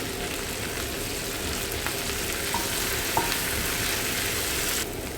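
Tomatoes sauté with ginger, garlic and curry leaves in a steady, even frying hiss that stays dense and close for several seconds with only tiny crackles.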